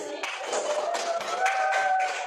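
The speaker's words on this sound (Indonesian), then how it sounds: "Kasih tepuk tangannya biar semangat dulu." A school class claps hands together in a classroom, a quick run of close, rhythmic claps with a few voices rising underneath.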